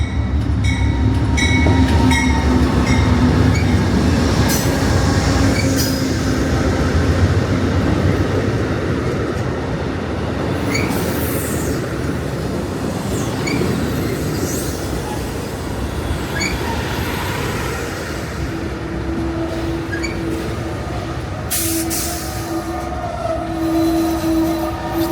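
The Amtrak California Zephyr passenger train rumbles past close by at Glenwood Springs, Colorado, wheels clattering and squealing, with a long horn blast sounding near the end.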